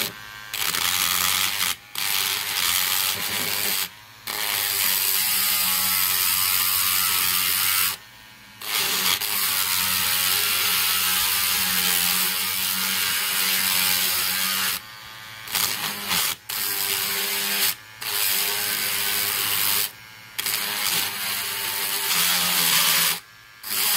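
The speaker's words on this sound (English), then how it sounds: "I think I'll be using my Dremel too to kind of" A Dremel rotary tool grinding down a Matchbox VW delivery van model, a close, high-pitched whine running in long bursts separated by short pauses as the tool is switched off and on.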